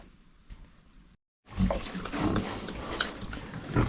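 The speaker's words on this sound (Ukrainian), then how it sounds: "попробую дати своїм поросяткам і будемо бачити, чи вони будуть їсти" Pigs and sows on a small farm eating extruded feed tossed to them, with grunting, snuffling and chewing close by; a quiet stretch and brief gap come before the loud, busy feeding noise starts.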